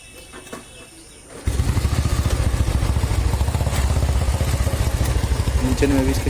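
A 2006 Royal Enfield Bullet motorcycle under restoration sputters into life after a quiet opening, then settles into a loud, steady thumping idle close by for the rest of the stretch.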